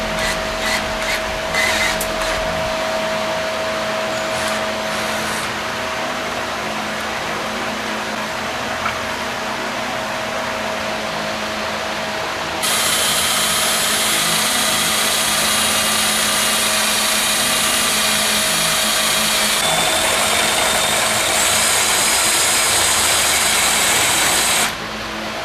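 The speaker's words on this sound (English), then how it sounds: "I'm going to drill this out so that we can get the head flush" Power drill boring out the head of a bolt during a Dynatrac ProRock 44 axle installation, a steady whine that rises to a higher, harsher pitch midway and runs continuously before stopping.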